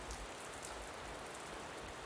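Steady rain falling, a dense even hiss of drops on a surface that holds without pause, fairly soft and with no voices.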